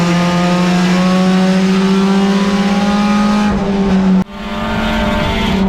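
Hornet class race cars roar around Tucson Speedway in a loud, steady engine drone with sustained high revving, a sudden brief drop near the end before the noise resumes.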